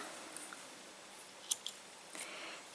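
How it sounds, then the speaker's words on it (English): Scissors snipping crochet yarn, a quiet crisp cut or two with faint handling sounds in an otherwise quiet room. "At this point you can cut your yarn"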